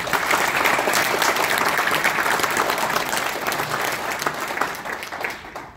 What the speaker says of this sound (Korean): 헌신적으로 봉사하시는 편집 위원님들께 이 자리에서 감사와 격려를 박수를 주십시오